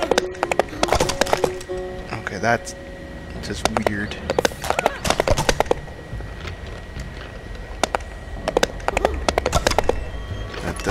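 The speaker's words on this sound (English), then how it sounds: "Horse trot." Hooves clip-clop in a trotting rhythm in the video game Stacking, with clusters of sharp taps recurring over about eleven seconds while someone talks over them.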